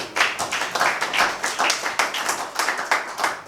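A wedding congregation claps together in a church service, a steady dense burst of many hands applauding without pause, fairly close and loud, with no talking over it.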